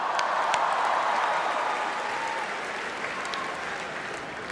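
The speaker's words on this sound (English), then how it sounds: "Can we have a huge round of applause for my opening act," A big audience at a comedy roast show applauds the opening act, a broad continuous wash of clapping that starts loud and gradually eases off over several seconds, with no voices over it.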